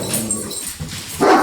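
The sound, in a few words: dog barking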